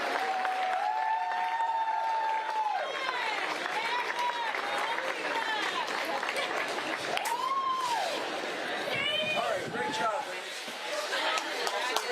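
Crowd applause for the Adams State Grizzlies, champions of the 2021 NCAA Division II women's cross country race, a steady wash of clapping throughout with cheering and talking voices rising over it.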